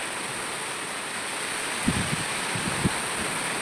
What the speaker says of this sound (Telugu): గాలి చాలా తీవ్రంగా ఉంది